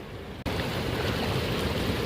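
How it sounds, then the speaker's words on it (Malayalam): The Aliyar river rushes past close by in a steady, broadband wash of flowing water. It starts suddenly after a brief quieter moment and then holds constant, with no speech. "ഇതാണ് ആലിയാർ പുഴ കേട്ടോ, ആലിയാർ റിവറാണിത്."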